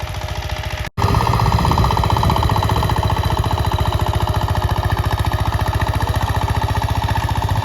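A tractor works and turns in a village during the rainy season, its engine chugging in a loud, rapid, regular thumping rhythm after a brief drop out near the start.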